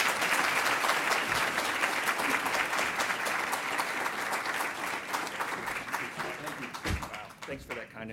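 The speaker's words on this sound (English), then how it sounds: "Please, a warm round of applause for our guest" An audience at a world affairs council talk applauds a guest speaker, a dense, sustained round of clapping that gradually thins and fades toward the end.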